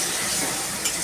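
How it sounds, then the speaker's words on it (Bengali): Spice paste being stir-fried in oil in a pan, the masala for an egg curry: a steady broadband sizzle with soft stirring scrapes, close and fairly even throughout, with no talking. "আর এই যে মশলা কষানো হচ্ছে।"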